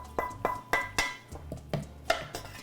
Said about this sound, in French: Donc tranquillement, on va venir mélanger notre salsa.